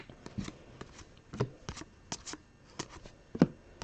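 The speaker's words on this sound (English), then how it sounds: "create a little extra space for stacking of the cards" Trading cards are stacked and handled up close, giving soft scattered slaps and shuffling taps in an irregular rhythm, quiet and without voices.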